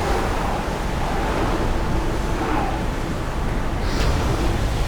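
A ship under sail in Assassin's Creed Odyssey, a steady wash of waves and rushing wind against the hull, continuous and fairly loud.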